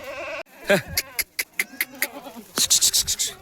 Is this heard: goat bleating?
yes